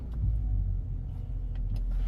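The engine of a BMW X5 E70 turns over and settles into a steady low idle, a constant deep rumble heard from inside the car with faint clicks on top.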